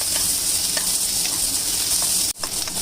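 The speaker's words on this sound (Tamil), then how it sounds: "வெங்காயம் நல்லா வணங்கிட்டோம்." Onions and coconut pieces sautéing in a pan for a paneer gravy make a loud, continuous close sizzle with light stirring scrapes, briefly cut off near the end, with no talk.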